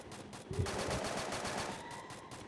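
Enemy gunfire in the Free Fire battle game, a dense rapid burst of shots and rattling fire at moderate level, continuous for a couple of seconds with no voices.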